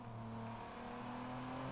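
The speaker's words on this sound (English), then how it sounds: "We'll stick with this lovely family sedan we have here" A family sedan's engine in the video game Watch Dogs hums at a steady, even pitch with a faint whir, quiet and unchanging, like a vehicle cruising along at constant speed.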